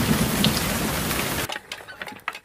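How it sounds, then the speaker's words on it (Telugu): Heavy rain pours in Hyderabad as a dense, loud, continuous hiss, then abruptly thins to scattered close drips and taps on a surface. "మూడు రోజులుగా రాష్ట్రమంతటా వర్షాలు కురుస్తున్నాయి."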